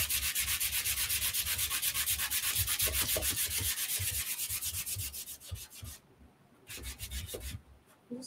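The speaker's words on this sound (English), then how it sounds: "I am going to sand it just a little bit." An electric sander works steadily across a wooden tray, giving a continuous close rubbing whir with a fast rhythmic pulse. Near the end it briefly cuts out and then restarts.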